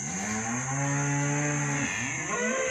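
Cattle mooing in a catch pen, one long, loud, close bellowing moo with a rising and falling drawn-out tone, alone with no talk.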